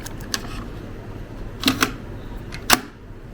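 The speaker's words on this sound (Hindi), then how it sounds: "ये है टेप, टेप को प्रेस किया हमने" A few sharp mechanical clicks and clunks of cassette tape recorder buttons being pressed, spaced irregularly over a faint steady background hum.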